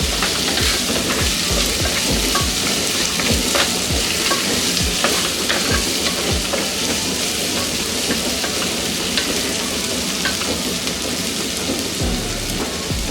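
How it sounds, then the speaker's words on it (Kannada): Finely chopped tomatoes fry in a pan for Kannada-style dal thove, giving a continuous close sizzle with occasional stirring scrapes and no talk. "ಟೊಮೆಟೊ ಫುಲ್ ಚೆನ್ನಾಗಿ ಬೇಯಬೇಕು, ಫುಲ್ ಸಾಫ್ಟ್ ಆಗಬೇಕು. ಅದು ಅಲ್ಲಿ ತನಕ ಇದನ್ನ ಫ್ರೈ ಮಾಡ್ಕೋಬೇಕು."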